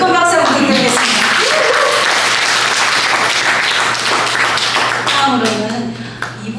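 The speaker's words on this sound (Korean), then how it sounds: "다시 한번 큰 박수 부탁드리겠습니다." A crowd at a party meeting in a hall applauds loudly and steadily for several seconds, with a steady hum underneath and a voice speaking at the start and again as the clapping fades.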